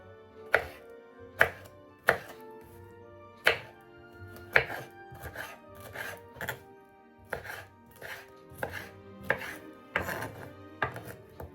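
A knife chopping pineapple on a cutting board for pickle, sharp, evenly spaced strikes that come in quick bursts and then pause, close and distinct, with no talking.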